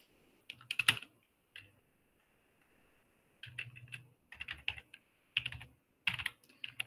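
Java code being typed on a computer keyboard, with scattered bursts of quick key clicks separated by pauses, close and fairly quiet, with no voices.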